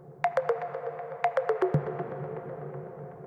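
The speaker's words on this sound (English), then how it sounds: "The next one is called Bleep, and it's just this plucky kind of sound" A plucky synth bleep sequence in Ableton, built for a hypnotic techno track and drenched in reverb, plays two short runs of descending staccato notes with tails that trail off; quiet and alone, with no voices.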